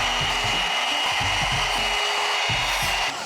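A cheap hot hair-styling tool running on its middle heat setting gives a steady, loud blowing whir with a low buzzing undertone that pulses unevenly throughout, close up and alone.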